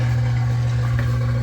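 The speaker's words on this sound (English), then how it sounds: "what you're hearing now is the washer" A home washing machine runs with a steady low hum and constant mechanical drone, sitting close and even throughout with no pauses.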